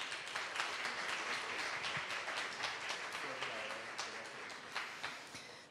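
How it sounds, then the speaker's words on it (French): Audience applause greeting a presenter at a university mental health event, a moderate, steady round of clapping from a seated crowd, fairly quiet and distant, with a few sharper claps standing out. "je vais accueillir avec une bonne main d'applaudissements"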